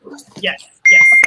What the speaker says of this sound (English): I hear like a beeping. Is that mine?